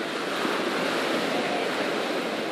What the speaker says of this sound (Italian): Questo è il mare di Nocera ed è sporchissimo stamattina